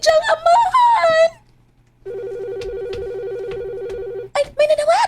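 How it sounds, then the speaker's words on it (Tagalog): A telephone rings with a steady electronic warble for about two seconds, set between stretches of dramatic speech in a domestic scene. "Ay, may nanawag!"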